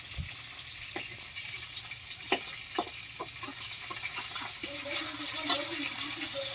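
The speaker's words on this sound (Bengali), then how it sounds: "দুই কড়াইতে কিন্তু মাছ ভাজা চলছে" Fish frying in oil in two kadai pans gives a steady, moderately loud sizzling hiss, broken by a few sharp clicks and spatters, with no voices.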